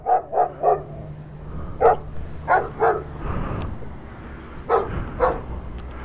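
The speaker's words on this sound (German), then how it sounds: "Das ist ein Schäferhund halt." A German shepherd barks in short, sharp bursts, close and loud, with a few single barks and clusters of two or three spaced across the stretch, over a steady low background rumble.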